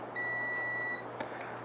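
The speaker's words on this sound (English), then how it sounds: "And we're going to listen for a beep." A continuity tester gives one clear electronic tone lasting under a second while generator cord wiring is checked, followed by a faint click in a quiet room.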